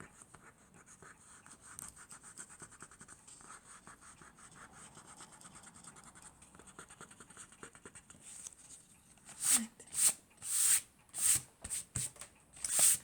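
A pencil eraser rubs across paper while a Bible-story craft picture is being coloured, starting as a faint, steady scratching and then turning into several loud, brisk strokes in a quick rhythm near the end.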